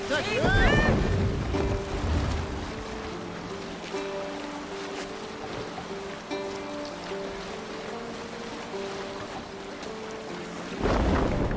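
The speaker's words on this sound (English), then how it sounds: "We can use the sail here, Abel. More sail!" A Viking longship sails at sea in Assassin's Creed Valhalla, with wind, creaking timber and water washing around the hull in a steady wash. Background music tones play underneath.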